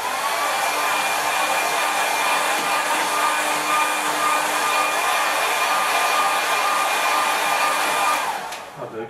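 Hair dryer blowing steadily on a watercolour painting of distant land, a loud continuous whoosh with a faint whine that runs for about eight seconds, then cuts off abruptly near the end.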